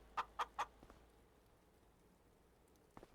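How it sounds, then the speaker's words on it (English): Chickens in the farming video game Farming Simulator 25 give three quick, close clucks in a row, then a soft single cluck after a pause, over faint ambient hiss. "I love the sound of chickens."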